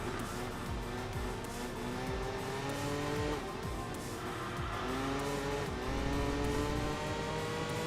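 A rally-style race car in Enthusia Professional Racing roars through repeated revs and gear changes, engine pitch rising and falling with tire squeal, loud and continuous throughout.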